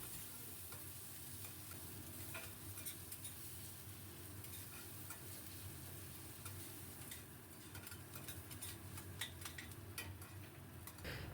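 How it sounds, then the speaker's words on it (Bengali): Chopped onion with black cumin fries in a pan with a soft, steady sizzle, while a spatula stirs and scrapes in irregular clicks and taps close by. "এবার খুব ভালো করে পেঁয়াজ ভেজে নেব যতক্ষণ পেঁয়াজটা না গলে যায়।"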